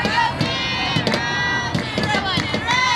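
Softball players in a high school dugout pounding on ball bands in a drum-like rhythm, sharp repeated thumps over a noisy crowd with cheering and chanting voices throughout.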